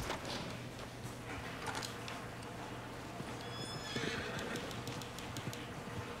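A horse whinnies loudly amid busy game ambience in the video game Red Dead Redemption, then hooves clip-clop away at a quick rhythm, fading with the horse.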